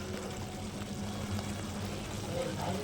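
A pan of chicken liver curry simmers quietly, with faint bubbling and a soft sizzle running steadily underneath; the sound stays low and close.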